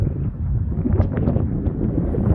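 Wind blows steadily outdoors at a fish hatchery in Spa City, West Virginia, a loud continuous buffeting rumble against the microphone with no talk.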